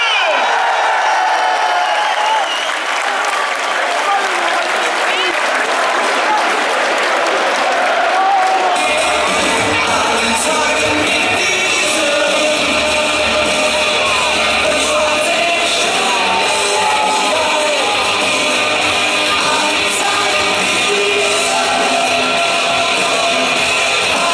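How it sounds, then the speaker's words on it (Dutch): Football stadium crowd at a Roda JC Kerkrade versus Sparta Rotterdam match applauding and cheering a player: loud sustained clapping and shouts swell up partway through and keep going, with a voice over a loudspeaker early on. "Dames en heren, maar een groot applaus voor Frankie de Moesje!"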